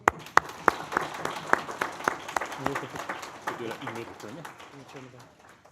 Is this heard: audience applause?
yes